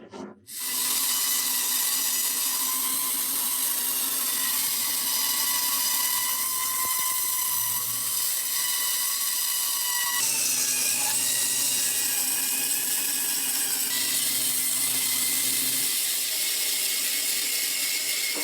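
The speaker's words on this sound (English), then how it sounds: "a bandsaw makes quick work of cutting out the rough shape" A bandsaw cuts the rough shape of an axe handle from a wooden blank, giving a steady, loud high-pitched whine that runs almost unbroken throughout, with a slight shift in pitch partway through the cut.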